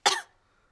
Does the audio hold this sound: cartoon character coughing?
yes